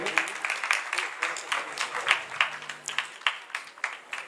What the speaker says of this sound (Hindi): जोरदार तालियों से हम दोनों हमारे डॉक्टर द्वय का अभिनंदन करेंगे